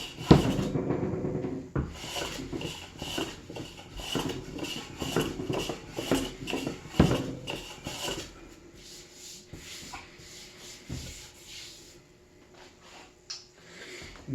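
A small Bailey hand plane taking shavings from the middle of a timber-framed table base: repeated rasping, scraping strokes of steel on wood in a steady rhythm. Close and moderately loud, then fading to quieter, sparser strokes.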